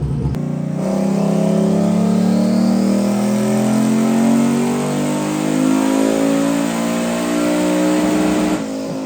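A Mazda RX-7 no-prep drag car engine revs hard with its rev limiters switched off, a loud, steady, rising mechanical roar that holds for several seconds up close before cutting off abruptly.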